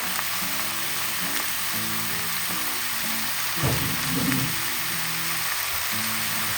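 Chicken curry ingredients fry and sizzle steadily in a pan, with a couple of louder bursts of crackling midway as food is stirred, close and continuous with no talking.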